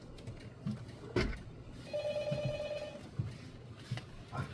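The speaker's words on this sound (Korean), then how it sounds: "전화가 왔네요." Outside an office, a telephone rings faintly for an incoming call, a steady electronic trill lasting about a second amid low background noise and a few soft knocks.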